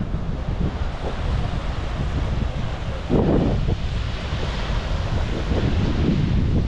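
Ocean surf at Gokarna beach, a loud continuous wash of breaking waves mixed with heavy wind buffeting the microphone, with one stronger gust or wave surge midway.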